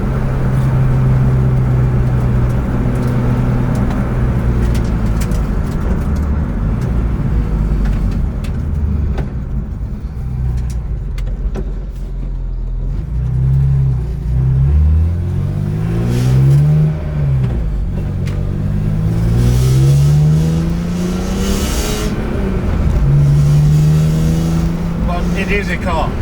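A BMW E46 M3 track car engine revs up and down in rising and falling sweeps, loud and close, with voices heard alongside the engine noise.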